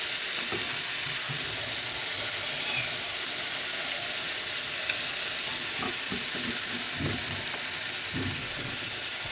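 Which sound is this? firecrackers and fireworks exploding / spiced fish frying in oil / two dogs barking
spiced fish frying in oil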